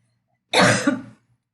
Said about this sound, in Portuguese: aí eu tô tossindo um pouco